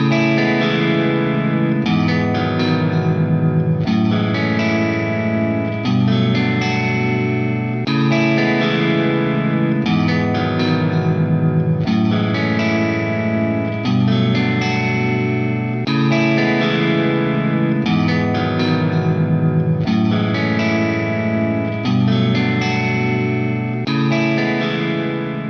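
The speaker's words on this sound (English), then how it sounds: "We can harmonize this in thirds to create this really awesome sounding arpeggio kind of section" Electric guitar arpeggio harmonized in thirds, heavily processed with effects in a progressive math-rock style, playing a steady repeating pattern that stays loud and continuous throughout.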